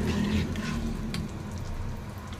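Whole spices for a potato upma curry tempering sizzle and crackle in hot oil, a steady close frying hiss with a few brief sharp pops, no one speaking.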